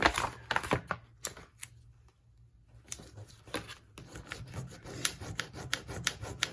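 Firm rubbing and scraping strokes as a capital H sticker letter is burnished onto a diamond painting sticker sheet, close and irregular, with a brief quiet pause midway and a brisk run of rasping strokes afterward.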